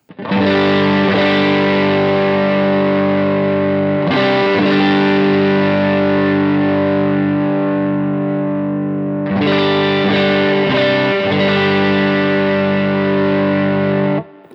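Sustained, heavily overdriven electric guitar chords through a Browne Amplification Protein or JHS Double Barrel pedal ring out loud, restruck three times with a short choppy flurry mid-phrase, no voices.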